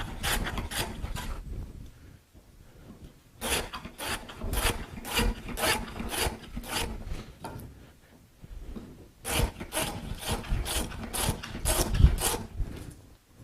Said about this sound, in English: Got the scrub plane set to a pretty good thickness.